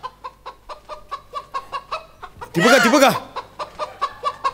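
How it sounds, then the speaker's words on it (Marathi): A jungle fowl clucks in a steady, evenly spaced series of short, sharp calls close by, broken once by a brief loud burst, with a voice speaking briefly. "कोकिळीच्या आवाजावरती रान कोंबडी आली आहे."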